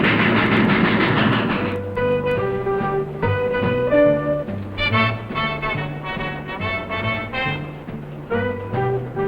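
A moving train rattles along the rails with a steady clickety-clack from the rail cars, a rumbling rush at first settling into rhythmic wheel beats and rolling clatter.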